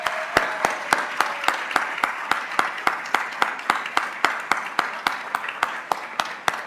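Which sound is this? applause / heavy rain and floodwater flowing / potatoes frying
applause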